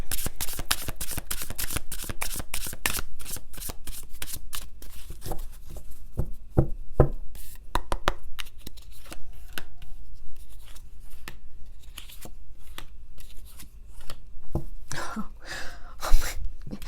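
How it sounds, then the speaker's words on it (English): Tarot cards shuffled by hand in a continuous run of crisp riffles and flicks, close and fairly loud, with a few sharper snaps and taps among them and no talk. "Let's pull a couple of cards for those of you who are in separation"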